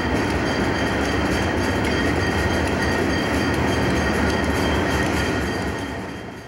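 Century 424 locomotives haul a passenger excursion train on the Green Bay route with a loud, continuous rail roar and rolling wheel noise that fades slightly at the very end.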